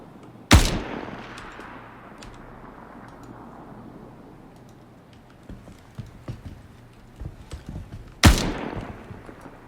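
Two sharp, loud single gunshots from a weapon in Star Citizen ring out several seconds apart, each followed by a decaying echo, with faint footsteps and rustling between them.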